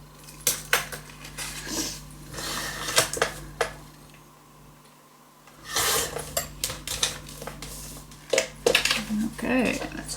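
Paper for a Graphic 45 album is cut with repeated crisp snips and rustling handling noises, interspersed with clicks and taps, fairly close and moderately loud.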